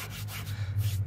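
A stain-proofing product is rubbed by hand into a Seadek Marinemat EVA foam boat mat, giving close, soft scuffing strokes over a steady low hum, with no voices.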